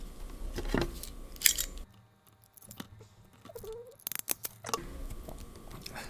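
Scissors snip through a patch cable in a quiet room, a few sharp close cuts at the start and again near the end, with faint handling noise in between.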